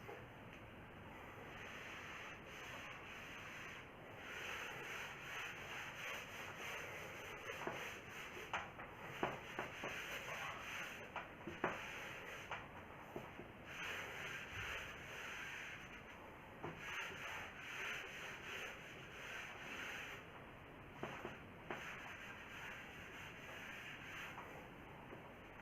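Chalk or marker writing is rubbed off a board with a duster: continuous soft scrubbing strokes, faint and fairly close, with repeated swishes over about twenty-five seconds and no talking.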